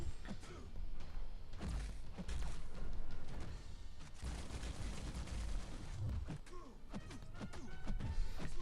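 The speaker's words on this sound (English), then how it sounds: "Right, that should be a really good detonation there" Heavy explosive bursts and crashing impacts from a detonation attack in Marvel Contest of Champions, with Squirrel Girl fighting, come in quick, uneven clusters of thuds and cracks at moderate volume.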